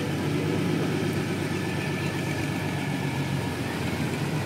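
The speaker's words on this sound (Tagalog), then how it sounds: "Pagka nahirapan tong loader at hirap pa kibuin itong bangka" A loader engine works hard as it strains to lift a fishing boat onto higher ground, a steady, loud mechanical drone holding throughout with no breaks.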